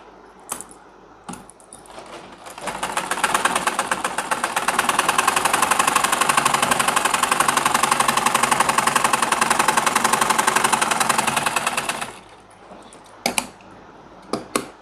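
A sewing machine stitches trouser pajama fabric in one long, steady, rapid run of about nine seconds, close and loud, with brief handling clicks before and after.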